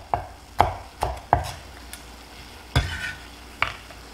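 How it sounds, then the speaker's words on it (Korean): A kitchen knife chops chili peppers and bell peppers lengthwise on a cutting board, with about seven sharp, separate knocks at an uneven pace, close and clear, and no talking. "고추, 피망 이렇게 다 주재료 썰어주세요"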